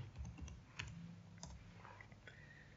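Computer keyboard keys tapped in a short, irregular burst of typing, close and fairly quiet, with a few sharper clicks and no voices.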